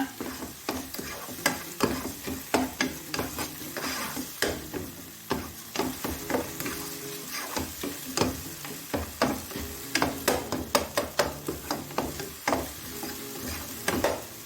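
Tomatoes sauté in a pan for kasuri methi malai chicken, with a loud, busy sizzle and rapid, continuous scraping and tapping of a spoon against the pan.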